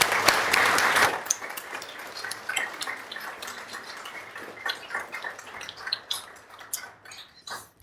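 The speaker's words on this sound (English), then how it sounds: "let's have a round of applause for Lee Jones" Audience applause at a university computing awards ceremony, a dense burst of clapping for about a second that thins into scattered, fading individual claps and taps across the room.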